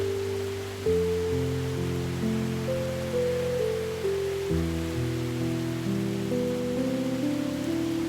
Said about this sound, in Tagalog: malakas pa rin ang ulan tol.